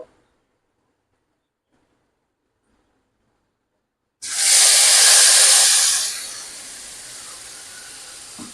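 Ground spice paste hits hot oil after a second of near silence. A loud, sudden sizzling hiss bursts out close by, then settles into a quieter, steady frying crackle.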